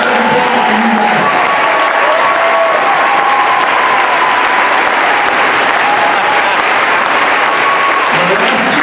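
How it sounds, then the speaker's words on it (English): Loud, continuous applause and crowd noise at a state football championship celebration for the players, a thick roar of clapping and cheering throughout with voices mixed in. "Round of applause for you guys."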